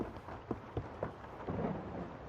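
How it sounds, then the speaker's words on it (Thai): Steady rain pours while low thunder rumbles and cracks a few times, close and heavy, with no voices. "โอ้โหเสียงฟ้าร้อง"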